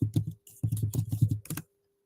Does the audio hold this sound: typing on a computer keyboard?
yes